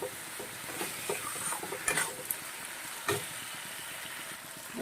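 Chopped tomatoes frying in a pan for a vegetarian drumstick dish, a soft sizzle under scattered clacks and scrapes of a stirring spoon, close and moderately quiet, with no speech.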